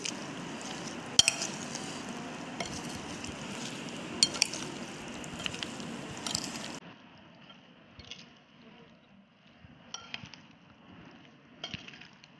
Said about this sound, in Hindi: चम्मच काला नमक ऐड करूँगी और इसे हम अच्छे से मिक्स करेंगे